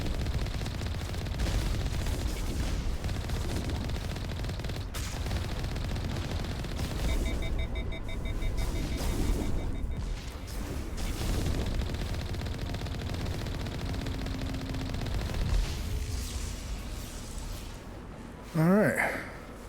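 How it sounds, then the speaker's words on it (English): Heavy turrets fire in Mass Effect Legendary Edition: a dense, continuous clatter of rapid gunfire and booming impacts, loud and sustained throughout, with a voice talking over it. "Fucking heavy turrets here."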